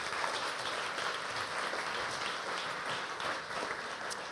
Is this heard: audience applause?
yes